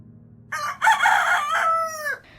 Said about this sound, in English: The cockerel crowed.